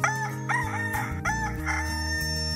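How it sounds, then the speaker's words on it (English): A rooster crows loudly and close, several drawn-out calls over a steady musical background. "a rooster crowed and Peter realized what he had done."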